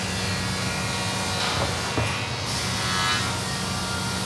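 Hardwood veneer for a custom door panel being scored to size, a steady close rasping scrape with a couple of brief sharper strokes over a continuous workshop hum.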